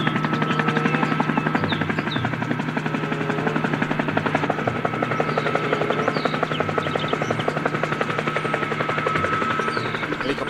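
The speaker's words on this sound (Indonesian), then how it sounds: "lihat kakak menemukan helikopter" A toy helicopter gives off a loud, continuous whirring buzz with a fast, steady rotor pulse that runs unbroken from start to finish.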